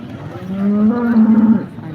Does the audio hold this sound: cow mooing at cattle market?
yes